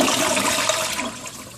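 A household toilet flushes, a loud, close rush of swirling water that holds steady and then begins to fade as the bowl drains.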